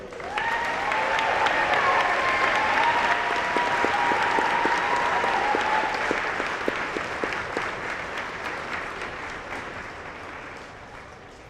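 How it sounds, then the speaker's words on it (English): Applause at a school senior honors convocation fills the room, a dense sustained clatter of many hands from an audience that swells early and slowly fades over about ten seconds. "Please join me in a round of applause, please."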